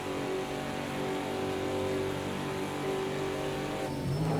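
Ford Mustang GTD race car engine at Daytona during the Rolex 24, a loud steady drone of engine harmonics held at high revs throughout, shifting lower near the end as the car begins braking.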